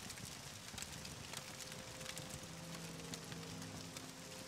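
Steady rain in the video game Morrowind, a dense continuous hiss pattering on surfaces throughout, with faint low tones from the game's ambient music underneath and no talking.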